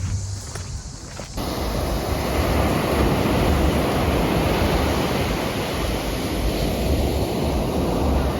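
Continuous roar of choppy sea surf at Alanya, Turkey, broad and loud, rushing steadily throughout after a brief quieter start.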